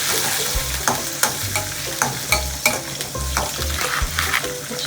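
Dried red chillies and green chillies with cumin seeds fry in a pan, a loud continuous sizzle broken by rhythmic scraping strokes of a spoon stirring close by.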